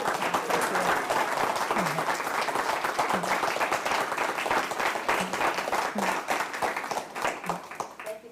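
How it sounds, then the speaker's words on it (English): An audience at an evening talk on Indigenous food sovereignty and language revitalization gives a speaker a round of applause, sustained and fairly loud throughout, with a few cheers or voices faintly mixed in. "Let's give her another round of applause."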